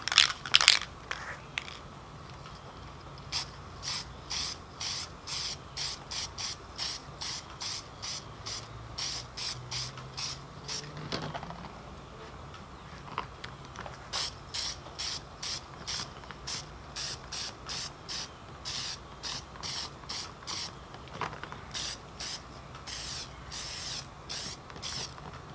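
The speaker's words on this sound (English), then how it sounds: "so let's go ahead and paint" Aerosol spray paint applied to a Team Associated B6.1 RC car body, a long series of short, sharp hissing bursts with brief gaps, and a few longer sprays, all close and loud with no talking.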